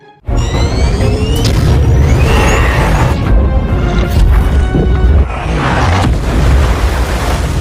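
Bombs dropped and exploding in a film sound effect, a loud dense rumble of repeated booms and crashes with whooshing debris, rolling on without pause.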